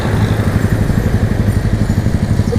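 A motorcycle engine runs close by with a steady, throbbing low rumble and rapid regular pulses, loud and continuous, with no talk over it.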